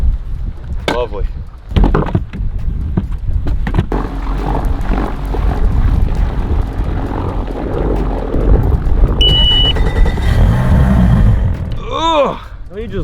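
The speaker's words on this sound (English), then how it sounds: "I just love the sound of a 4-stroke in the morning." A four-stroke outboard boat motor runs on a lake in the Maine woods, a steady close rumble under wind buffeting, with a voice speaking over it.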